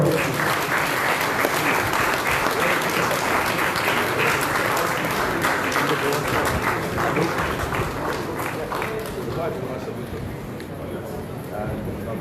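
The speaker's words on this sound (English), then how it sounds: "Let's have a big round of applause." Sustained applause from a crowd at a cooking competition prize distribution, dense and steady clapping throughout that eases slightly toward the end, with faint chatter underneath.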